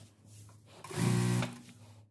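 A sewing machine stitching a dress runs in a short, quiet burst of rapid mechanical whirring that rises, holds for about half a second, then winds down, with faint handling sounds around it.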